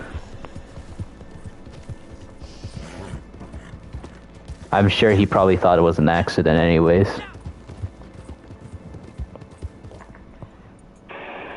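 A horse's hooves clip-clop in the Red Dead Online video game, with a louder burst of hoof and horse noise in the middle. Someone talks throughout.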